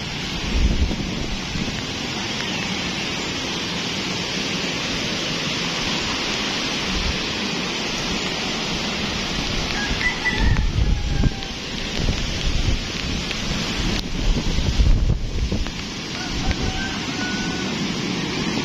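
A strong typhoon lashes the seaside at Bucana, with a constant roar of wind and driving rain that swells into heavier gusts midway through.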